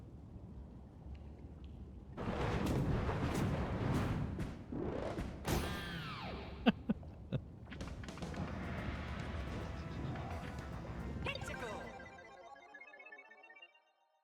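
Seeker Bullet Bills being fired in Super Mario Bros Wonder in the Deep Magma Bog level, with booming launches, thuds and whooshing game effects over busy music, then fading out near the end.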